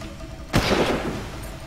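Sudden burst of gunfire from the video game Far Cry, a sharp loud blast followed by a rumbling decay over a steady ambient background.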